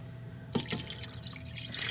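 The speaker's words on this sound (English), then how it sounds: "Maybe I should put some more water in here." Water is poured into a Ninja Foodi pot, a short close splash and trickle that starts abruptly and continues as a light bubbling pour.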